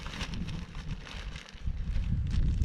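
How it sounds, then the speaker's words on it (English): Steady low wind rumbles across the microphone outdoors on frozen Lake Superior while ice fishing, a continuous rushing noise with no talk. "it's a little windy."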